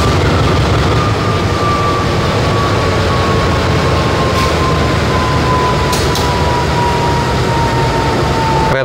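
Logawa train locomotive running in long hood position, a steady broadband rumble with a faint sustained whistle-like tone, continuous and loud throughout, no talking.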